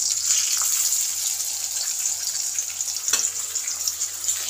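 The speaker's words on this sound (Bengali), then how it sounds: "এখন আমি এই তেলের মধ্যে ওল আস্তে আস্তে ছেড়ে দেব, একটা একটা করে দিয়ে আমি ভেজে নেব।" Slices of elephant foot yam sizzle in hot oil, a steady bright crackling hiss with small pops, close by and without talk.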